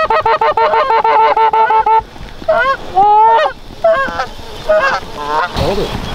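Early-season geese honk loudly and close over a fresh-cut corn field during a hunt, a rapid run of repeated calls followed by several separate overlapping honks from more birds.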